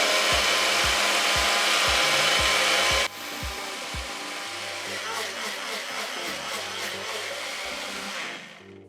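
A loud, harsh motor whirs with rhythmic pulsing, then drops to a lower grinding churn with rattling, a blender working through a thick satay marinade paste.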